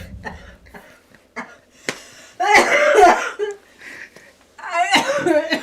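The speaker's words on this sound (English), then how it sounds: "She pulls the mic closer to her as she coughs." A woman coughs several times close to the microphone, harsh bursts broken by brief pauses and a few breathy sounds.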